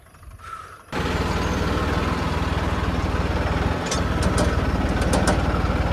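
A tractor engine starts up and runs at a steady, loud, low rumble, with a few faint clicks partway through.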